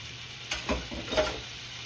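Lemon juice hitting a hot skillet of shrimp scampi, a brief soft burst of sizzling with a few stirring scrapes over a low steady background hiss, close and quiet.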